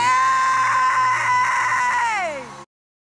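A person screams in one long, loud, high-pitched sustained cry that slides downward in pitch before cutting off abruptly into silence.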